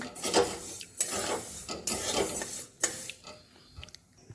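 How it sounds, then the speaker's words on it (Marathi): Sesame seeds dry-roast in a hot kadhai on medium heat, stirred with repeated rasping scrapes that come in uneven strokes, close and fairly loud, with no talking. "तीळ पण निसून किंवा निवडून झालेले आहे त्यामध्ये टाकून घेऊया तीळ मस्त छान असे आपल्याला ते भाजून घ्यायचे आहे"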